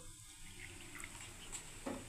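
A bowl of water is poured into flour for pitha batter in a home kitchen, giving a soft continuous trickling and splashing that stays faint and steady with no talking.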